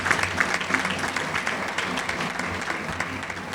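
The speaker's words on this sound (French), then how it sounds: "Je vous demande s'il vous plaît d'applaudir chaudement, très chaudement, les parents ici présents avec nous ce matin." Dense, steady applause from a morning audience honouring parents at a first-aid graduation ceremony, continuous clapping throughout with a faint murmur of voices underneath.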